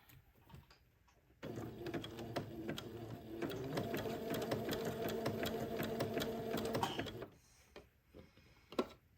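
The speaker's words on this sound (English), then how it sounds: "I'm going to slowly begin to zigzag the gathered lace to the entredot" A sewing machine zigzag stitching gathered lace to entredeux runs at a steady, fast, rhythmic whir for several seconds, starting and stopping abruptly, with quiet handling noises before and after.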